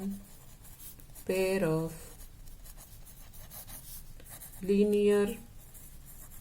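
A pen scratches steadily across paper while someone works through a class 10 maths exercise on pairs of linear equations, with short bursts of talking over the faint, continuous writing.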